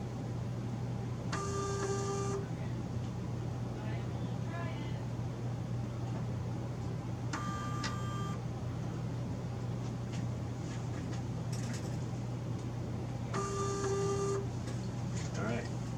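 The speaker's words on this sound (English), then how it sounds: "I have it running a small test program, just showing that both motor drives are working" Small motor drives in a DIY remote-control antenna tuner running a test program: three separate whirring bursts about a second long, spaced several seconds apart over a steady low hum.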